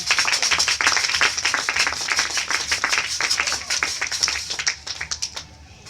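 A church congregation claps together in a dense, steady round of applause that thins and tapers off toward the end.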